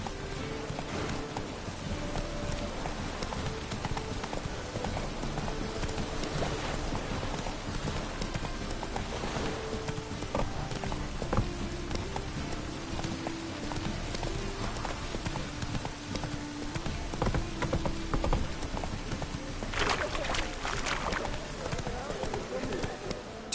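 Horse hooves clip-clop in a steady, brisk rhythm close by, continuing throughout with a louder burst of hoofbeats near the end.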